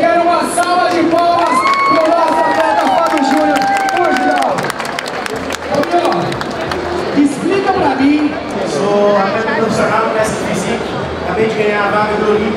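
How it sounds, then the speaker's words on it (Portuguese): A bodybuilding competition crowd cheers, claps and shouts in a loud, continuous roar at close range, with voices talking and calling out over the noise. "Eu quero uma salva de palmas."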